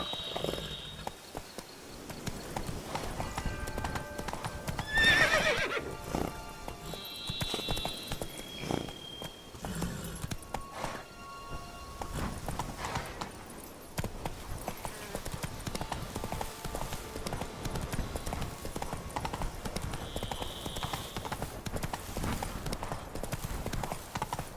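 Hooves of Roach, a horse in the video game The Witcher 3, clip-clop in a steady running rhythm, with brief bursts of other game sounds over them.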